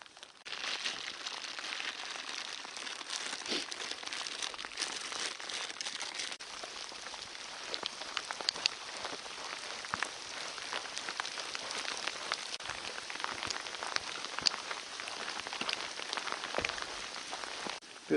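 Hail or rain falls steadily in Sequoia National Park, a constant close crackling patter on surfaces with dense scattered impacts throughout, no voices.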